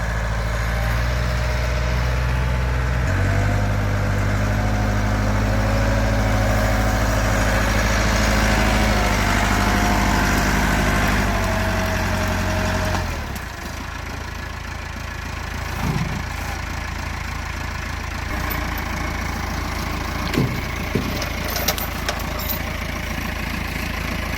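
A tractor engine idles steadily and loudly on a farm with a sawmill nearby, a low continuous drone that drops to a quieter, rougher idle about halfway through, with a few faint knocks near the end.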